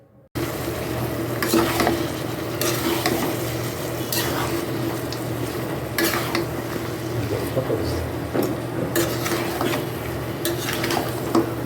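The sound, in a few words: stirring meat being cooked in a pan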